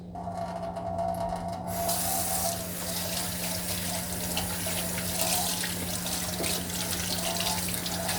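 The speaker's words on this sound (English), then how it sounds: "Alright, rinsey, rinsey, rinse." Kitchen tap water runs steadily into a sink for rinsing while baking cookies, a close, continuous splashing rush with some rubbing of hands or items under the stream.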